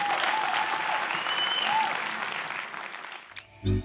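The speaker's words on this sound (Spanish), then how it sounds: "Dale un fuerte aplauso a la palabra." A church congregation claps in a strong round of applause, dense and steady, thinning out near the end as music begins.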